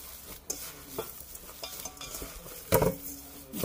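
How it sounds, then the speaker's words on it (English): Stuffed pepper filling with breadcrumbs is mixed by hand in a bowl: soft squelching, irregular mushing sounds close up, with a couple of sharper knocks and bumps. "Just mix it and mix. Mix it very well."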